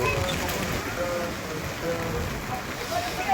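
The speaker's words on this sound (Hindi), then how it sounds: "वर्षा बारजोस हो" Rain falls in a soft, continuous hiss that stays quiet and even throughout, with a voice talking over it.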